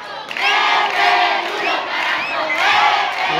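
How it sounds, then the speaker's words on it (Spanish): A stadium crowd at the Centro Cultural gives a loud, sustained ovation with cheering and shouting after a student Estudiantina performance, continuous and dense throughout with no clear speech over it. "los chicos se ganaron la ovación del estadio del Centro"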